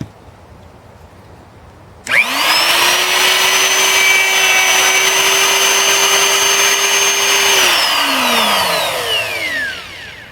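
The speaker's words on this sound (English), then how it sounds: "we're going to use the bearing of the router to come back in and do the rest of the cut" Router cutting a pickup route into a Telecaster guitar body, guided by its bearing: a loud, steady high-pitched whine that starts abruptly after a quiet lead-in, holds for about five seconds, then winds down as the motor slows.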